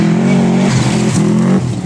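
Petrol-powered radio-controlled Outlaw rally car engine buzzing loudly and steadily up close, with a brief dip in pitch midway before revving back up.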